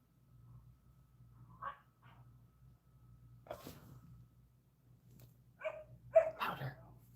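Dog giving soft, muffled woofs and huffs on command indoors, a few faint, scattered bursts with a sharper cluster near the end over a low background hum.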